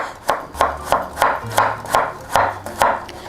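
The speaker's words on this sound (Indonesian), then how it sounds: "Ini kunyit kita potong-potong kecil dulu" Turmeric root chopped into small pieces with a knife on a cutting board: eight or nine sharp, evenly spaced chops, close and loud, with no talking.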